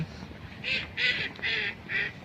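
A duck quacks four times in a steady rhythm, moderately close, over a low murmur of outdoor town background noise in Norway.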